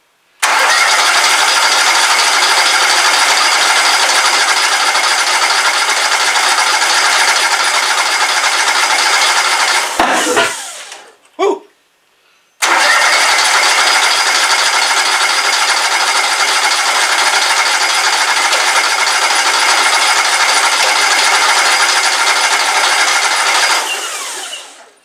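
A tractor-pulling engine being cranked over, likely ahead of ignition firing after carburetor priming: a loud, steady mechanical churn that runs about ten seconds, breaks off briefly, then resumes for another long stretch.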